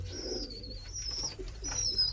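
Pigeons in a netted coop give a few soft, low coos close by, with a thin high chirping tone running above and a steady low hum underneath.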